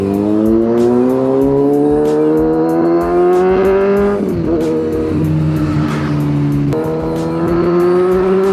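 On a road from Baguio, a vehicle accelerates hard to overtake a bus, its engine revving in loud rising sweeps that drop with each gear change, close and dominant, with rapid ticking behind.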